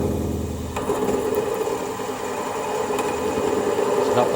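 An 8.2 mm drill bit, probably blunt, cuts through silver steel with a continuous close grinding drone, steady and unbroken, with a few faint clicks above it and no voices.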